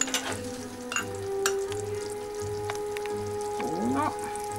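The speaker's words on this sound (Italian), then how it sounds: "So it's boiling" Caramel sugar syrup boils in a pot for candied apples, giving a soft bubbling sizzle with scattered pops and a faint stirring sweep, close up.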